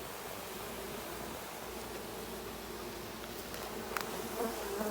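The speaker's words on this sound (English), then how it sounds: "she just brought a lot of extra bees with her" Mating swarm of bees buzzing in a backyard, a dense continuous drone of many insects heard up close, steady and fairly faint, with no voices.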